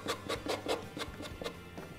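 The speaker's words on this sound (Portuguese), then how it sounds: "eu vou pegar uma lixa. Eu uso esse tipo de lixa de pé, tá?" A foot file is rubbed across a scrapbooking craft piece in about eight quick, even rasping strokes, close and fairly quiet with no talk.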